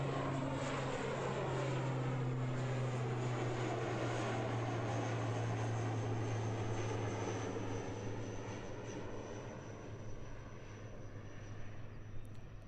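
A brand-new Air New Zealand ATR 72-600 turboprop airliner at Christchurch Airport, its propeller engines droning in a loud, steady tonal hum that slowly fades slightly over the stretch.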